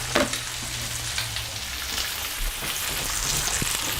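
Lamb frying in a pan gives a steady, crackling sizzle with small pops throughout, close and continuous, with no voices.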